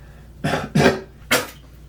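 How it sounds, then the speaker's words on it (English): Three short, close coughs in quick succession, the first two nearly back to back and the third after a brief pause. "instead of like full cough, I'm doing mini coughs over and over"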